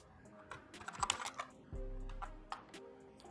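Text typed on a computer keyboard while working in Photoshop: a quick run of close, crisp key clicks, then a few scattered taps after a short low thump.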